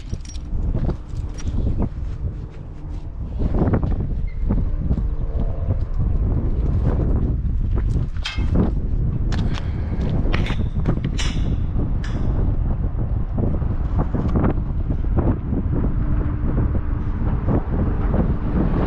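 Steady wind gusting at an outdoor dam, a broad low rumble buffeting the microphone continuously with scattered thumps and rustles throughout.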